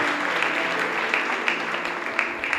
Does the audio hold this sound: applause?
yes